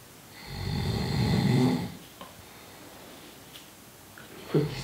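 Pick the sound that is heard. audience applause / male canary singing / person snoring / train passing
person snoring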